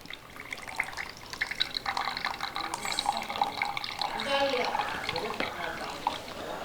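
Blended homemade weight-loss juice pours steadily from a container, a continuous close splashing and trickling liquid sound that runs the whole time.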